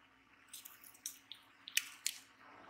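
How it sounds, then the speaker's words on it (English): Air bubbles and ink being sucked out of a refilled HP integrated ink cartridge, heard as faint wet squishing with a few sharp dripping clicks, alone and quiet. "You suck until you can see the air bubbles coming out."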